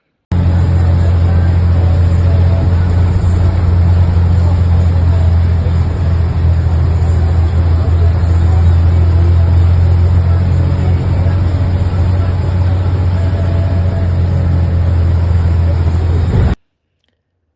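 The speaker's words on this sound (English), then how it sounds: "I found the bus to Quetzaltenango, and here was our bumpy ride" A bus rumbles along a bumpy road to Quetzaltenango, Guatemala, its low engine drone steady and loud with rattling cabin noise throughout, ending abruptly.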